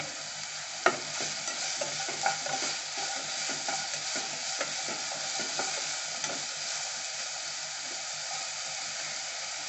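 Mushrooms and onions, seasoned with salt, sauté in a pan with a constant close sizzle and frequent scraping, tapping stirs across nearly ten seconds, with no voices.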